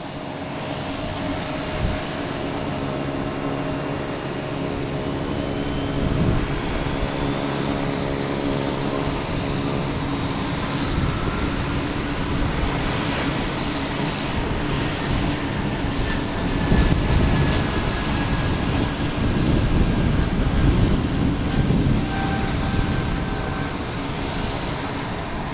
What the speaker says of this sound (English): Let's see if the JetBlue engines can drown out the propeller plane here.